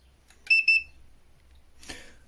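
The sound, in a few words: PeakTech P 4940 mini IR thermometer beep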